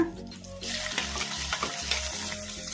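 Chillies and black pepper fry in a pan over a medium flame, a steady, close, full sizzle that runs throughout with faint stirring underneath.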